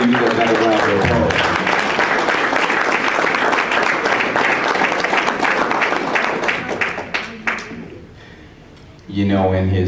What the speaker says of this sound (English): Let's give Baba K. another round of applause.